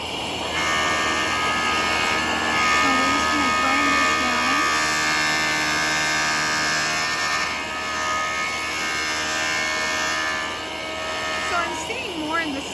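A Jooltool rotary polisher grinds and smooths stone with a medium wheel, a steady high whine running throughout with faint scraping shifts, while someone talks softly over it.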